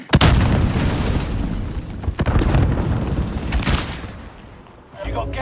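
Grenade explosion in the video game Call of Duty Warzone, a loud booming blast among bursts of gunfire, with several sharp broadband hits across the clip and game noise between them.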